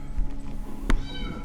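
A Bengal kitten on its first day in a new home lets out a single short, clear meow, close by, over faint room noise.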